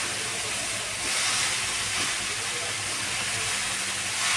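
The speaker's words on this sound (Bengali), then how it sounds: "শাকটা দিয়ে আমি নাড়াচাড়া করে নিচ্ছি" Fenugreek greens being stirred in a hot cooking pan give a steady, loud sizzling hiss that holds through the whole stretch with no talk over it.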